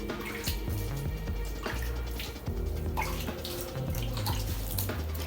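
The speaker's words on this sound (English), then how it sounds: "And then I'm just going to splash a little bit of water." Water splashed onto a bokashi mix of wheat bran and Multi-EM, a continuous moderate pouring and splashing sound heard alone with a low background hum.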